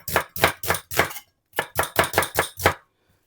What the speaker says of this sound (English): We're just going to slice these 2 onions just